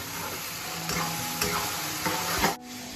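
A paste of tomato, onion, ginger, garlic, cumin and coriander sizzles loudly in a pan, a dense close hiss with a few scraping stirs, cutting off into a quieter hiss at the end.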